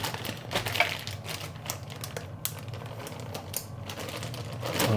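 Pasta dough is handled inside a plastic bag, giving close crinkling and rustling with scattered sharp clicks and taps, quiet and steady, without speech.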